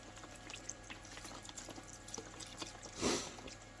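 Isopropyl alcohol poured over resin 3D prints from a Mars 3 Pro printer to wash them; faint, close liquid splashing and trickling with small drips, rising to a brief louder gush near the end.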